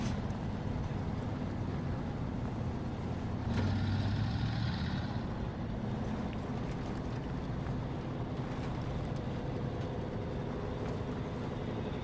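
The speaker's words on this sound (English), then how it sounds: "the Fleet Star can do it. It's a great little truck." A Fleet Star truck in the video game SnowRunner drives on with a steady, droning engine rumble throughout, a brief mechanical whine rising near the start, with no voices.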